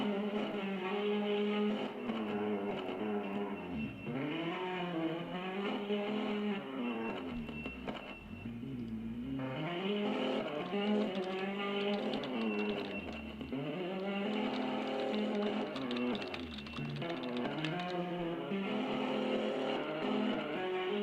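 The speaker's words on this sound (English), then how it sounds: "And the last car is up to complete Super Stage 2." Rally cars tear through a super stage, engines revving hard up and down in repeated rising and falling bursts, with gear changes and brief dips between runs, loud and continuous without voices.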